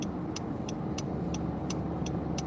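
Car driving in traffic gives a steady close road and engine rumble, joined by a regular light clicking that repeats about three times per second, like a turn signal, with no voices.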